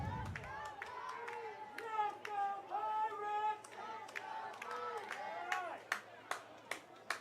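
Spectators at an East LA College versus OCC football game give scattered shouts and calls, fairly faint, followed by a run of sharp, separate claps toward the end.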